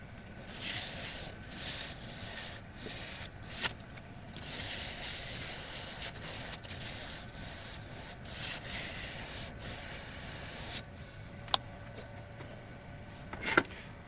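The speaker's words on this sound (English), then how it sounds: "I'm going to sand it a bit." A wooden dibble, a seedling planting tool, is sanded by hand in steady rubbing strokes, a close, soft, hissing scrape repeated in short bursts with brief pauses.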